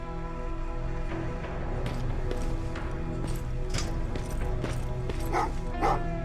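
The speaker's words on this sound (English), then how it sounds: "Oh, what's with the dogs?" Several dogs bark and yip in a Terminator: Resistance game scene, the sharp barks scattered over a steady hum of game music and ambience, moderately near.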